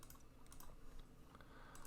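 Typing on a computer keyboard while coding JavaScript, a quick, steady run of light clicks, faint and close, with no talking.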